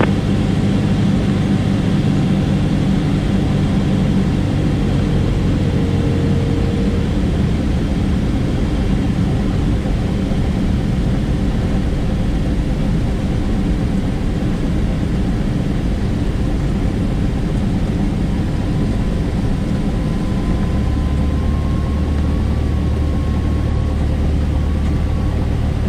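Small plane landing on runway 22 at Lexington after a left base turn to final, a steady loud engine drone inside the cabin throughout with no clear touchdown distinguishable.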